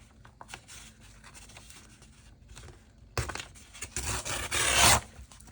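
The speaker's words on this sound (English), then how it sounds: "I'm going to tear that" Paper torn by hand for a collage, a soft rustle followed by sharper ripping bursts that grow louder toward the end, close and alone with no talk.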